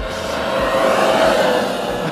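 Traxxas X-Maxx RC monster truck accelerating hard, a steady loud electric motor whine with broadband roar of tires on the ground, continuous throughout with no voices.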